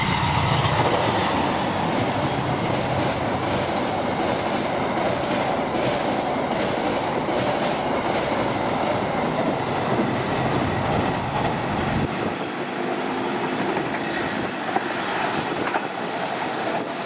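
The Saunggalih train runs through Klari station in a steady, loud rumble of wheels and carriages with clickety-clack rhythm and faint squeal, continuous for the whole stretch before easing slightly near the end.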